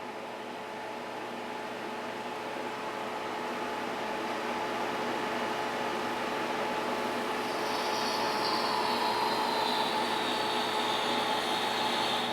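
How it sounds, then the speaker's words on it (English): A refrigerant recovery machine pulls vacuum on the hoses of a car air-conditioning setup, giving a steady, loud mechanical whir with a constant hum and a faint rising whine near the end. "So now I'm pulling vacuum even on this inlet hose."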